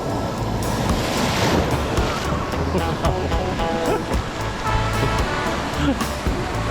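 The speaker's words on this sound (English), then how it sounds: "These waves are way more intense today than they were the last couple of days." Loud, continuous ocean surf at San Pancho, Mexico, with waves crashing close by, heavy rumbling water and wind buffeting the microphone throughout.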